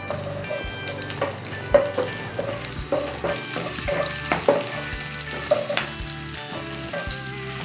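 Chili and sliced garlic stir-fry in hot oil for a Thai crispy pork and kale-stem dish, a close crackling sizzle punctuated by repeated sharp spatula knocks and scrapes against the pan.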